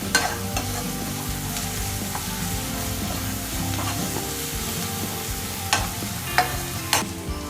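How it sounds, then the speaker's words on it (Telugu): Ginger and garlic paste sizzling in a pan for quail curry while being stirred, a continuous fry hiss broken by a few sharp spoon scrapes and taps near the end. "ఈ అల్లం పేస్ట్ పచ్చి వాసన పోయే వరకు ఇలా కలుపుకోవాలి."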